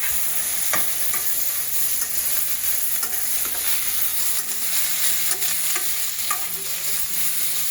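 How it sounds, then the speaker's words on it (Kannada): Chopped coriander and mint fry in oil for village-style chicken donne biryani, a steady close sizzle with repeated scraping stirs throughout and no talking. "ನೀಟಾಗಿ ಇದೆಲ್ಲ ಫ್ರೈ ಆಗಬೇಕು ಎಣ್ಣೆಯಲ್ಲಿ"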